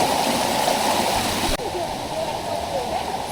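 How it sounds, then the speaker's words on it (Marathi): A monsoon forest stream flows near Varasgaon waterfall outside Pune, a steady close rush and gurgle of water that continues throughout, with a few faint voices underneath. "मस्त असं ओढा हे बघा."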